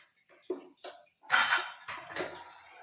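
Dishes and cutlery clink and clatter in a sink while being washed, several sharp knocks and rattles, close and irregular, with a busier burst of clanking in the middle.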